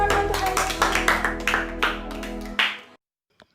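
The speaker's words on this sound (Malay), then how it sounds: "tepuk tangan buat Tuhan" A Sunday school congregation claps for God, a quick run of loud, close claps blending into applause over a lingering musical tone, then stopping abruptly before a couple of faint taps.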